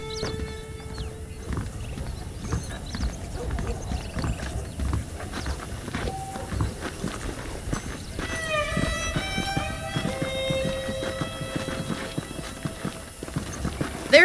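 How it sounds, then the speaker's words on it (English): Steady clip-clop of horse hooves trotting along in the video game Red Dead Redemption, with a brief whinny and game music tones layered over the rhythm. "The horses are saddled up over here."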